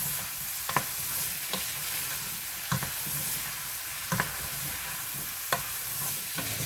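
Zucchini, tomato and green pepper sizzle with onions in a pan while a utensil stirs them, giving scraping strokes roughly every second or so over a constant close frying hiss.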